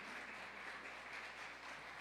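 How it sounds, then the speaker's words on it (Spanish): A church congregation applauds, a soft, even wash of clapping heard at a distance and held steady for a couple of seconds. "Denme un aplauso al Señor por la vida de ellos."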